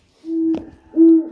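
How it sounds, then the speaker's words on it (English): An owl hooting at night near a cabin in a state park, two clear steady hoots close by, loud and alone in otherwise quiet surroundings. "that's an owl"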